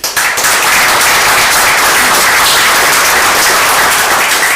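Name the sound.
audience applause welcoming woodturner Ray Key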